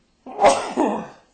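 A single sneeze bursts out loud and close, a sharp explosive onset followed by a second breathy push, in an otherwise quiet room during a meeting.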